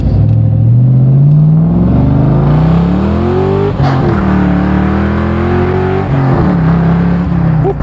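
A Lincoln Aviator with a swapped engine accelerates hard on its first drive, the engine note rising loudly through a pull, easing briefly, then climbing again up close and without talk.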